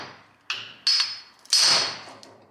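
A hammer strikes metal while driving out a rear differential bushing on a Nissan 350Z or Infiniti G35, three sharp ringing blows spaced under a second apart, close and alone.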